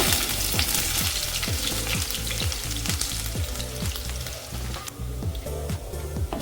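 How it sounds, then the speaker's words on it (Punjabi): Ginger and garlic fry in mustard oil with cumin and coriander in a pan, making a loud, continuous sizzle with a steady crackle and faint regular ticking underneath, close up and free of speech. "ਅਦਰਕ ਲਸਣ ਨੂੰ ਭੁੰਨ ਲਿਆ ਸੀ 2 ਮਿੰਟ ਵਾਸਤੇ"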